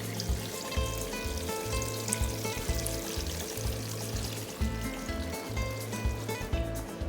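Water is poured steadily into a cooking pot, a continuous close splashing stream that gurgles throughout without pause.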